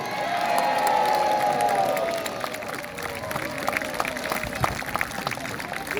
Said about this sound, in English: let's have a cheer and a parade of our victorious ships who have won today's battle